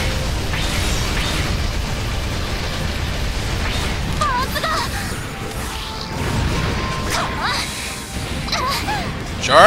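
Beam weapons fire rapidly in Gundam Breaker 3: a dense run of zapping shots, bursts and whooshes rolls over a constant roar of battle, ending in a sharp blast.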